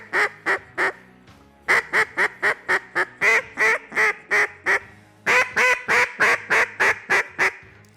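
A Thunderbird duck call blown in rhythmic series of loud, close quacks, three rolling cadences of descending notes separated by short pauses, closely imitating a live duck.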